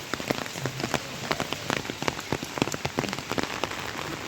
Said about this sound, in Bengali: এই দুপুর থেকে বৃষ্টি শুরু হয়ে গেছে। বৃষ্টিটা অনেকক্ষণ ধরে হচ্ছে